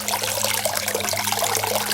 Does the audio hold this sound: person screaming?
no